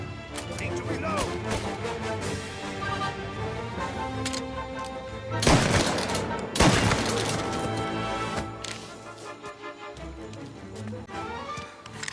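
Gunfire rings out in the video game Mafia: Definitive Edition, with dense bursts of shots over a busy mix of music and effects and two especially loud volleys in the middle. Characters talk throughout.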